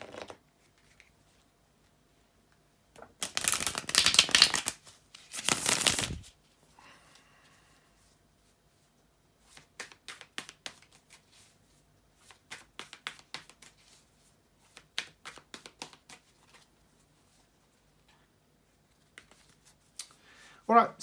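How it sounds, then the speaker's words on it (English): Tarot cards are riffled and shuffled in two loud bursts, followed by a long run of softer, intermittent card flicks and shuffling. "bear with me a second, guys, to shuffle the tarot cards"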